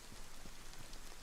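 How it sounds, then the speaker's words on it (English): Rain falling steadily in the survival video game DayZ, a continuous soft hiss of drops pattering on surfaces, heard alone without talk. "Ooh, it's raining."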